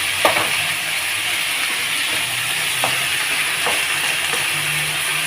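Curry leaves and coriander sautéing in a pan for Bombay chutney: a steady, loud broadband sizzle with occasional soft scraping stirs, no voices.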